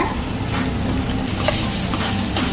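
Onion and curry leaves dropped into hot oil for a roadside-style kalan dish: a loud, dense, continuous sizzle and crackle up close, with faint stirring, no talking.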